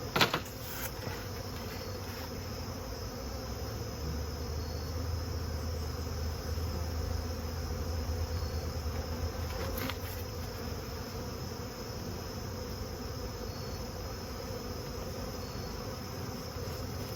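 Honey bees hum around an overwintering nuc hive box, a steady faint buzzing drone that holds throughout with no talk.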